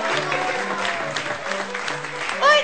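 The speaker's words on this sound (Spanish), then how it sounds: "Un aplauso" Audience applause at a Spanish-language TV show, broadband clapping and crowd noise held steady for a few seconds with faint voices and tones underneath.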